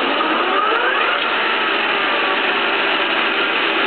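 A 1K62 metal lathe spindle runs at speed before braking, making a loud, steady whirring drone with no breaks or change across the stretch and no voices.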